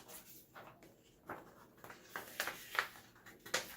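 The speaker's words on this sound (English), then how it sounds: "You can just peel that off." Thin dollar store wallpaper backing being peeled away in short crackly tearing strips, a series of dry rustling pulls growing a little louder toward the end, quiet and close with no talk.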